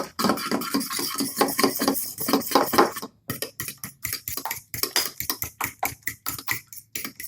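Egg yolk and white being whisked together in a bowl, a close, rapid run of rhythmic clinking and tapping strokes that stops briefly and then resumes more sparsely.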